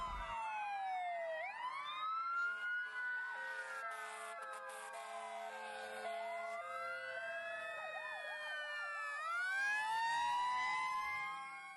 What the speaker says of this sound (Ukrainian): пожежна машина